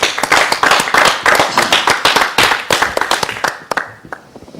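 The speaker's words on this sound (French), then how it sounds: "Applaudissements pour lui." A small group claps for a performer at a lively gathering, brisk uneven hand claps rolling steadily for a few seconds before thinning out and fading near the end.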